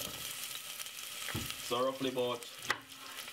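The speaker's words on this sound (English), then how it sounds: "so that's the red onion which I want to fry now first" Chopped red onion fries in a pan for a stir-fry, a soft steady sizzle running underneath as someone talks briefly over it, with a light clatter near the end.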